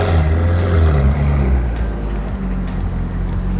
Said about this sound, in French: c'est pas un échappement standard. Hein. I think it's the Novitec